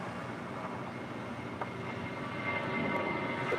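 An airliner's engines rumble on an airport runway as a steady, fairly faint broadband roar that grows slightly louder toward the end, with no voices.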